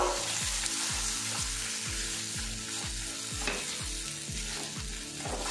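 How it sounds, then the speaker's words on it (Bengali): Red lentil paste with turmeric and cumin frying over low to medium heat, stirred constantly with a spatula, giving a loud continuous sizzle broken by a steady run of rhythmic scraping strokes. "আর এই স্প্যাচুলা দিয়ে অনবরত এইভাবে নাড়াচাড়া করে নিতে হবে"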